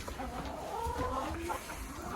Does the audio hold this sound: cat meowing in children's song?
no